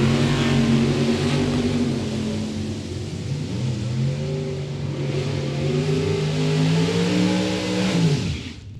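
Two drag racing cars at a strip, a Chevrolet S10 and a Mustang Roadster, run hard with loud, sustained engine roars whose pitch climbs through gear shifts before cutting off abruptly at the end.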